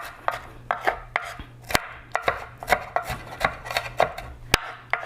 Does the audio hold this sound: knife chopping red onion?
yes